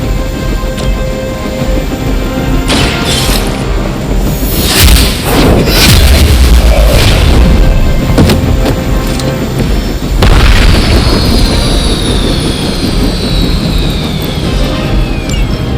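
In Marvel's Midnight Suns, loud booming explosions burst over a droning helicopter, with heavy rumbling blasts in the middle, then a lingering whine and whoosh as the chopper goes down.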